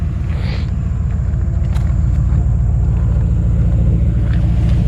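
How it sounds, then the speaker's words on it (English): A 1956 Ford F100 pickup truck's newer exhaust rumbles loud and close, a deep, steady idle that continues throughout. "I actually really like the way the exhaust sounds."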